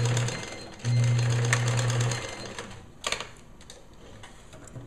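Sewing machine stitching ribbon onto a bereavement gown, a steady close whirring run of stitches for over a second with a brief burst before it, then quieter handling and a couple of soft clicks.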